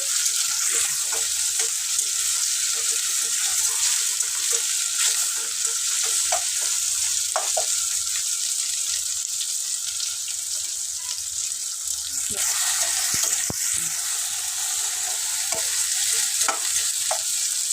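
Tomato being stirred into hot oil with curry leaves, cumin, mustard seeds and ginger for chicken vermicelli upma, giving a loud, continuous hissing sizzle with scattered spoon scrapes and clicks throughout, close up and with no talking.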